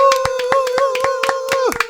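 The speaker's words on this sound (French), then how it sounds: "Applaudissez-la s'il vous plaît." A quiz-show audience claps for a contestant in quick, even, rhythmic beats beneath a sustained singing voice.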